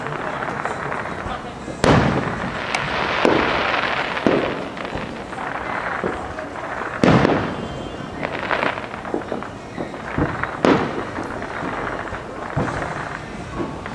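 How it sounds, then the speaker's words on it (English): Fireworks at a town fireworks show in Valley Stream, several sharp booming bangs spaced a few seconds apart amid a constant crowd murmur and nearby voices talking. "the blockbusters they have over here, the ones that shoot up, they go bang."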